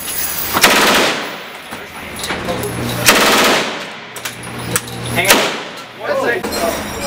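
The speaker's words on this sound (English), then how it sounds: "So this is the Bren 303" Bren .303 British machine gun of World War II era firing at a Las Vegas shooting range, with loud, close rapid bursts separated by short pauses and some range noise in between.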